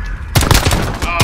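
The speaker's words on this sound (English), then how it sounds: "Oh, we're shooting each other." Rapid bursts of gunfire from the video game Call of Duty: Modern Warfare, a loud cluster of sharp shots after a short quiet lead-in, then a final shot near the end.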